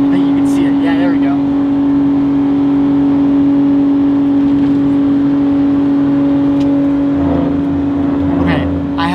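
A Jeep JK engine revs high with a transmission fault, holding a loud, steady drone near 6,000 RPM. Voices talk intermittently over the constant engine note.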